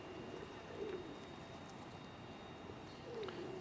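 Pigeons coo faintly outdoors in Cumbernauld, Scotland, a couple of soft low calls rising over a constant hiss of wind and street noise.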